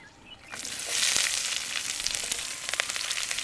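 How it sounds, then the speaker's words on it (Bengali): Chopped onion hits hot oil with dried red chillies, bursting into a loud, steady sizzle after a quiet start, with small crackles and pops scattered throughout. "শুকনো লঙ্কার কালারটা একটু চেঞ্জ হবে তখন আমরা পেঁয়াজ দিয়ে দেবো। এর মধ্যে পেঁয়াজ কুচি দিয়ে দেবো।"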